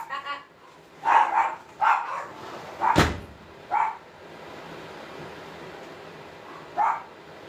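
A pet dog indoors barks in short, sharp bursts, several in quick succession and then one more after a pause, loud and close over faint room noise.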